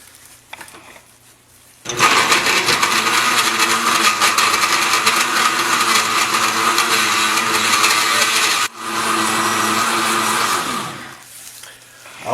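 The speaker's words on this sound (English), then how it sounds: "I'm just going to blend this up" A kitchen blender whirs loudly and steadily for about nine seconds as it grinds frozen fruit and ice for a s'mores smoothie, dips briefly, then runs on before shutting off.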